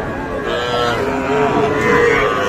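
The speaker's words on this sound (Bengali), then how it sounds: "আমার সামনে বেশ কয়েকটা সুন্দর সাইজের বাছুর দেখছি" Sahiwal cattle and calves lowing at Ambari cattle market, a long, loud, close moo rising and holding over the whole moment amid faint market background.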